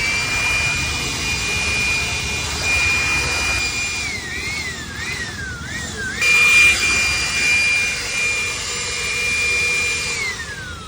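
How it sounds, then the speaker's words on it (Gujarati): An electric air blower used for cleaning runs with a steady loud rushing whine, its pitch dipping and recovering several times midway as the airflow changes, then winding down at the end. "તો ચાલો, બ્લોઅર થઈ ગયું છે રેડી."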